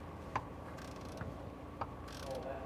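A 3/4 ratchet wrench works a bolt loose while tracks are fitted to a utility vehicle, giving a few faint, sparse clicks and ratcheting sounds over low background noise.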